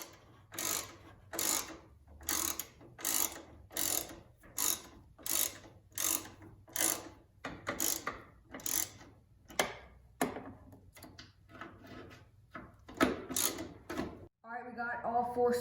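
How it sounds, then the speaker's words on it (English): Screws being backed out to remove a guard on a C5 Corvette during a rebuild, a rapid string of repeated ratcheting bursts in a regular rhythm, close and crisp, ending with a short different mechanical sound. "now we're going to remove these two screws to get the guard off"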